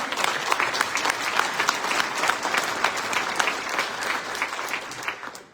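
An audience at a New Mexico state of the state address breaks into sustained, dense applause, loud and continuous throughout, fading slightly at the end.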